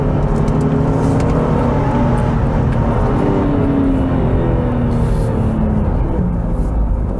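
Engine of a 2020 Acura MDX in sport mode, a loud, steady drone with rising and falling harmonic tones as it revs under acceleration, heard close and continuous with no talking.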